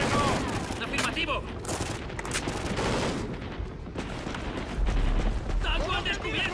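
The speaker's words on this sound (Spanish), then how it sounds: "¡Están disparando!" Dense gunfire in a Call of Duty: Ghosts battle, continuous crackling volleys and bursts under shouted voices, loud and close with constant combat noise throughout.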